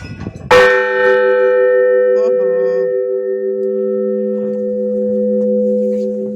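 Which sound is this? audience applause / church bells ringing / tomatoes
church bells ringing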